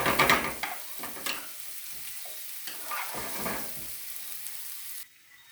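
Food fries in a pan while a mung daal vegetarian dish is cooked, giving a steady, close sizzle with a few scraping stir strokes early on. The sizzle drops away sharply near the end.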